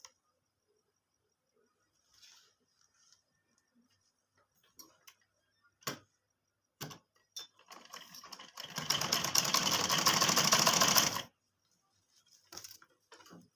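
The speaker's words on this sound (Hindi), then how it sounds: "इस तरह से हम सीधी सिलाई लगा लेंगे।" A sewing machine runs a straight seam on kurti trousers in one steady burst of about two seconds, preceded and followed by faint clicks and handling taps in a quiet room.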